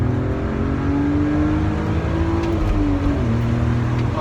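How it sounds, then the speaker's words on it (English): A BMW E46 330ci ZHP inline-six engine revs steadily nearby, a loud continuous drone whose pitch rises gradually and then drops back, with no voices over it. "The inline 6 just sounds great."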